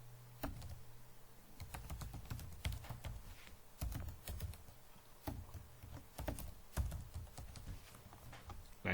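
Computer keyboard typing as an email address is entered into a Gmail compose window: quick, irregular, close-up key clicks and taps running steadily throughout, with no voices.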